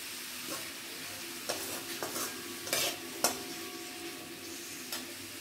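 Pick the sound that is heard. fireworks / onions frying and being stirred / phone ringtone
onions frying and being stirred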